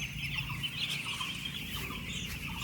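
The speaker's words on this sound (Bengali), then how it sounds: "মুরগি, 4 দিনের মুরগি।" Four-day-old farm chicks in a village poultry shed keep up a dense, continuous chorus of high cheeping and clucking, close and steady, with no one talking.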